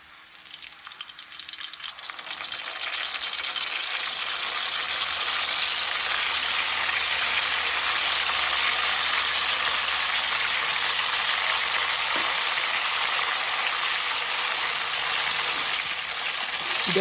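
Banana slices frying in hot oil as turmeric-and-salt water is poured in, a dense, loud, steady sizzle that swells in after a couple of seconds and holds without a break.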